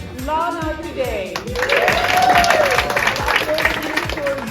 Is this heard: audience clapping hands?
yes